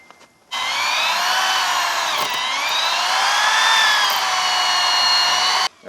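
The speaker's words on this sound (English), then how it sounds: "Power drill, preferably corded, is going to give you more power when you're going through." A corded power drill boring through a wooden pole for a backyard calisthenics park, one loud sustained whirring grind lasting about five seconds with a slight pitch dip midway, close and alone, then stopping abruptly.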